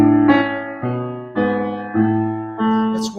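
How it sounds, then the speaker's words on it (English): A slow chain of sustained harmonic chords stepping downward, each held about half a second before shifting, in the style of Massenet's opera Manon; clear, resonant and alone with no talking. "It's a chain of suspension sounds like this."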